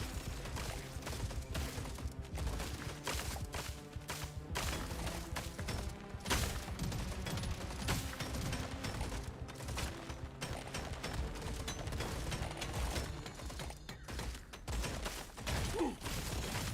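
A burst-fire weapon shooting at an incoming swarm in a video game: dense, continuous volleys of rapid gunfire with mechanical clatter, loud throughout with no pause.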